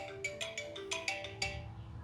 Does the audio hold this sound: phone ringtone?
yes